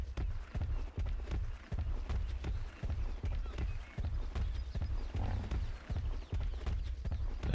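A horse being ridden in the video game ARK gallops with steady rhythmic hoofbeats, close and prominent, while a person talks intermittently over the thudding.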